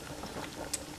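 A pot of water with spaghetti in it boils on a kitchen stove, a steady, fairly quiet bubbling and hiss with a brief brighter splash near the end and no talking.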